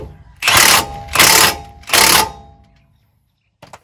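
Three short, loud bursts of a power tool tighten bolts on a Dodge Ram 1500 front end during a rebuild of the CV axle, U-joints and ball joints, each burst evenly spaced and followed by quiet and a faint clank.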